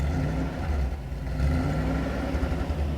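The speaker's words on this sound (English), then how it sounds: "It's cold, so just give it a little rev." A cold 1985 Mercedes 500S with its exhaust done runs close by, its engine holding a steady low rumble through the whole stretch with a slight swell in level partway through, and no voices over it.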